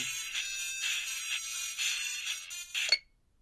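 A phone ringtone in the video game Cat President plays a repeating electronic melody in several bursts, then cuts off abruptly into silence.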